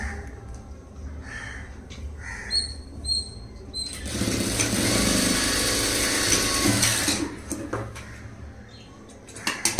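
A sewing machine stitches darts on a front-gap blouse, with a steady mechanical whirr lasting about three seconds in the middle, framed by quieter room noise and a few faint chirps.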